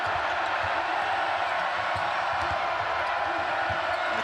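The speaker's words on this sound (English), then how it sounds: "The crowd really trying to become a factor now" Large basketball arena crowd of about 13,000 at Bramlage during a 2006 WNIT women's college championship game, a steady broad roar of noise with rising cheers and scattered bounces, sustained throughout.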